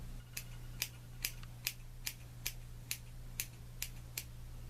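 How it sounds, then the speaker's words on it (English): Scissors point cutting fine hair extensions, ten crisp close snips at an even rhythm about half a second apart over a low steady hum, no talk. "so what I'm going to do is just point cut it."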